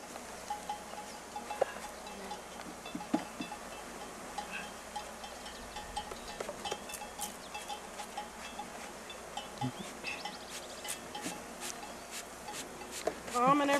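Honey bees buzzing around an opened hive during a hive inspection, a thin, steady outdoor drone with scattered faint clicks and handling noises, fairly quiet throughout.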